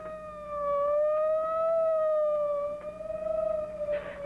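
Single wailing police siren tone rises and falls slowly, loud and sustained, with no voices, though it may be a voice or instrument imitating a siren.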